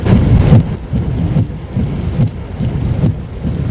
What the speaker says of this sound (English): Even though it is raining